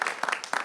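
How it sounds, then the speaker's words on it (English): Audience applause for panelists at a career symposium, brief scattered clapping from a small group, fairly faint. "I want to give a round of applause to our panelists"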